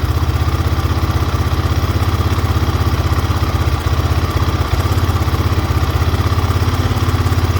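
A GPX Moto FSE 250E motorcycle with a slide carburetor idles steadily but slightly choppy, its low engine thrum loud and close and carrying on alone with a small uneven stumble midway.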